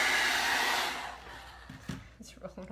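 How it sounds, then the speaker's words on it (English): A hair dryer blows hot air to dry paint on a craft Santa door hanger, a loud close whoosh that fades out, followed by small clicks and handling sounds. "Blow dryer, he gets hot."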